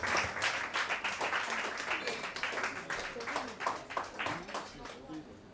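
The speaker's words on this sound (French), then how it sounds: "Toujours sous vos applaudissements" Audience applause at a fashion show runway, scattered clapping mixed with an announcer talking over it throughout.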